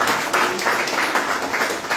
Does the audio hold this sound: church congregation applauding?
yes